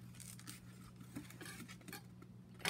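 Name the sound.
knife cutting citrus fruit in half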